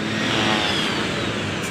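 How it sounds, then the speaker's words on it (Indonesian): A departing Atlas intercity bus from Aceh, leaving for Siantar and Medan at night, its engine droning loud and steady close by with a broad rumble and no speech. "Bus Atlas berangkat menuju Siantar Medan."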